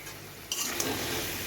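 Bottle gourd and ridge gourd pieces go into a hot pan and start frying, a soft steady sizzle with a couple of clinks of utensil against the pan, close and unaccompanied by talk.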